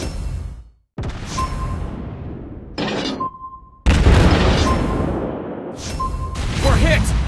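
Soviet battleship Sinop in World of Warships Blitz taking torpedo hits, with heavy booming impacts and bursts of explosion noise broken by brief silences and short tonal alert beeps, while game voice callouts speak over the action.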